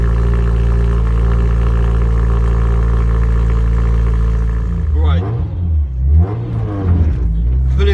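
Supercharged Subaru BRZ tuned by Kinightracer in Milton Keynes: a loud, steady droning engine heard from inside the car, then it pulls away with rising and falling revs through gear changes, and someone talks over the later part.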